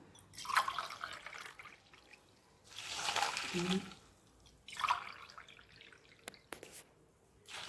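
Water is poured onto jaggery in a kitchen for karadaiyan nonbu adai, heard as a few short, soft splashing and trickling bursts separated by quiet gaps.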